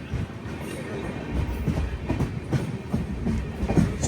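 Cocanada Superfast Express running near Akividu, passing a level-crossing gate: a continuous rumble with rhythmic clickety-clack of wheels over rail joints, fairly close and steady throughout.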